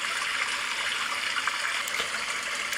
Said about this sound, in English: And then you've got stream, which is really good.